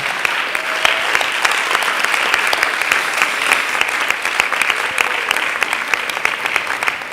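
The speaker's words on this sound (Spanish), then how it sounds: "un aplauso también" An audience applauds at a dance event, a sustained, dense wash of many hands clapping that stays steady and fairly loud throughout.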